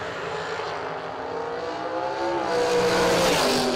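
A dragster at a drag strip event roars down the track, a loud sustained engine howl that climbs in pitch and grows louder toward the end.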